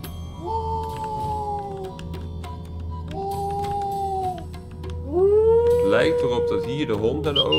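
A dog howls in the video game Bilkins' Folly, three long drawn-out howls that rise and fall, fairly loud and near, with someone talking over the last one.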